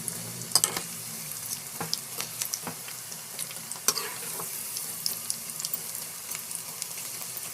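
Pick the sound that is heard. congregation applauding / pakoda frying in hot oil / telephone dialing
pakoda frying in hot oil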